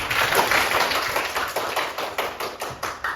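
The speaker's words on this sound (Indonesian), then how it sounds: "Tepuk tangan dulu semua karena sudah paham." A class of students clapping hands together, a dense patter of many claps with a few sharper, more distinct claps toward the end, fairly close and steady with no talk.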